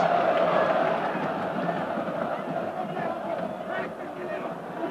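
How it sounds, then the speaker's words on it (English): Fans in a football stadium at a Galatasaray versus Manchester United Champions League match roar and cheer, a broad sustained crowd noise heard from a distance under a commentator's voice. "It's got the fans on their feet and cheering again."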